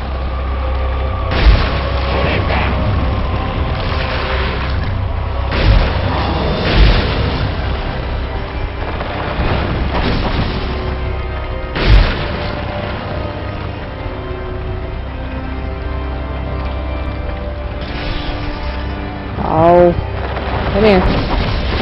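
Shotgun blasts in the Resident Evil 4 video game, several booming shots scattered through a busy stretch of game sound effects and music with a voice talking over them.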